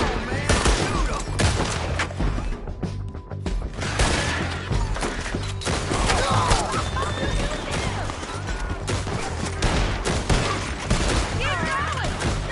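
A chaotic Red Dead Redemption II shootout with dense, continuous gunfire and shouting voices over it. Horse sounds mix into the steady, loud wall of noise.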